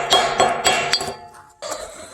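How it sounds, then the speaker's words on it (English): A hammer knocks on a lump of melted high-grade metal concentrate from recycled gold and computer scrap, giving about six sharp metallic clinks in irregular succession, close and loud, with a brief pause before the last strikes. "Let's knock on it with a"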